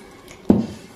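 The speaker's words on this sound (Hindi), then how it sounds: "थोड़ा सा पानी ऐड करेंगे" A short splash of water into a bowl of gram flour (besan) batter being mixed for fried mutton chaap, one brief wet burst that fades quickly in a quiet kitchen.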